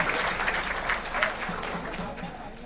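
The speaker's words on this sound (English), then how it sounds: "Put your hand together for yourself" An audience at a charitable trust's 25th anniversary celebration in Auckland applauds, a dense patter of many hands that fades over a few seconds, with a voice speaking over it.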